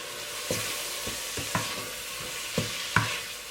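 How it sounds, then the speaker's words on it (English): Patak's curry paste and seasoning are stirred into a potato curry in a pan, giving a few sharp spoon scrapes and knocks over a soft, steady sizzle, with no voices. "And we're just gonna mix that all up."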